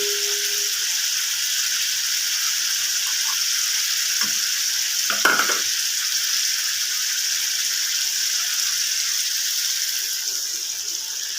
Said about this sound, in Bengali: এবার জল দিয়ে দেবো যেরকম গ্রেভি খাবেন সেরকম জল দেবেন